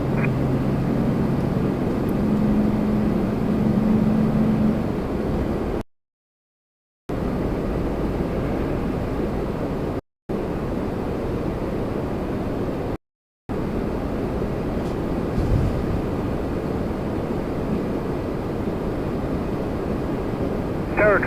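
Airliners approaching to land at Toronto Pearson, a steady broad jet roar held at moderate distance across the whole stretch, broken by a few brief dropouts, with no voices heard.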